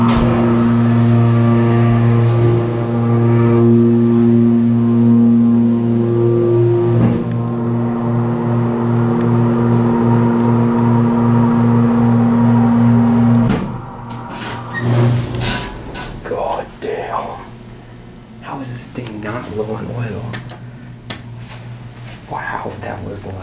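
Schindler MT hydraulic elevator at an office park running very loudly, a heavy droning hum that holds steady for several seconds and then cuts off, followed by clunks and rattles, with people talking over it.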